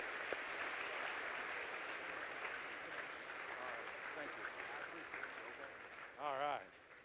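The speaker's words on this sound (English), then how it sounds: "Give this fantastic young man a big round of applause." Faint, distant audience applause at a school leadership conference fills the hall as a sustained soft patter, with a voice briefly audible near the end.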